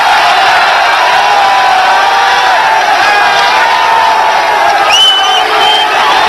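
A massive crowd at Rajghat surrounding Anna Hazare, a loud, dense, continuous roar of many voices with scattered shouts and whoops and no pauses.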